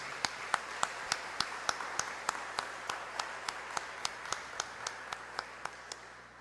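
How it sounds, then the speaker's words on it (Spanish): A church congregation at a Mass for Our Lady of Lourdes claps in unison, a steady rhythmic beat of about three sharp claps per second that continues evenly and gradually softens near the end. "Fuerte aplauso al Evangelio de Jesús"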